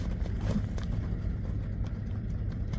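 A Kyrgyz horse runs back and forth, its hooves clip-clopping in a quick, uneven rhythm, fairly near over a low, rumbling outdoor background, with no talking.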